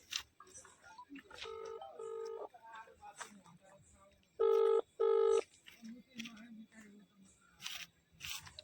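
Two pairs of telephone keypad dialing tones, clean and evenly spaced, sound between stretches of quiet speech from a man about to make a call.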